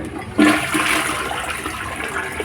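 A toilet bowl flushes after cleaning, with a sudden rush of water that goes on as a steady swirling gush for about two seconds, close by.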